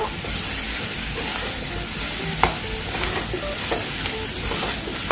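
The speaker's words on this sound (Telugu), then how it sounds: "ఈ ఆనియన్స్లో ఈ మష్రూమ్స్ వేసుకొని కలుపుకోవడం వల్ల కొంచెం ఆనియన్ ఫ్లేవర్ అనేది మష్రూమ్కి పడుతుంది" Mushrooms stirred into onions frying in a pan, a constant sizzle with scraping and clicking from the stirring utensil, close and steady with no talk.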